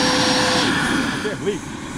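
An RC model helicopter, a scale MD600N or Bell 412, lands at a model aircraft flying field, its steady high rotor and motor whine running close and loud throughout while someone talks over it.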